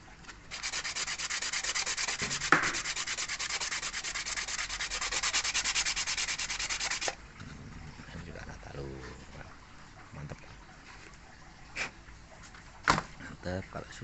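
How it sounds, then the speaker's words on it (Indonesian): Fast, steady scraping of sandpaper rubbing back and forth on a soft plastic aquarium pump impeller, loud and continuous for several seconds, then fainter handling noises and brief knocks. "kalau kita gosok pakai amplas gini kan dia empuk"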